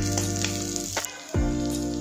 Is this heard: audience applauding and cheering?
no